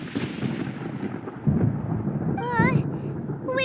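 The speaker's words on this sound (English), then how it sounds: "Paimon hears thunder!" Deep rolling thunder rumbles through a storm scene in the video game Genshin Impact, loud and sustained for several seconds, with a few bright warbling tones rising over the rumble near the end.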